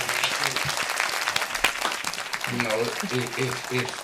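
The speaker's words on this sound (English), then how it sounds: "Hey, clap him up, clap him up." An audience applauds a guest on a talk show, sustained clapping throughout while a voice talks over it.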